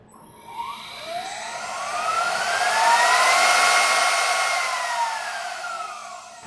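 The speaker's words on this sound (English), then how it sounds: "And now we can navigate to the spindle on-off button in Mach4 to test the spindle." A CNC machine spindle driven by a variable frequency drive spins up with a rising whine, holds a steady high-pitched tone, then winds back down. It has an airy, hair-dryer-like quality, is moderately loud and heard alone.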